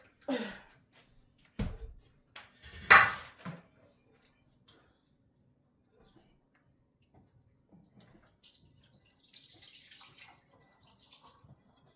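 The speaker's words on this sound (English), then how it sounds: "I'm going to drain off some of the water here." Water drained off a large batch of washed goat meat, heard as a few short splashing pours early on, followed by quieter running trickles after a pause.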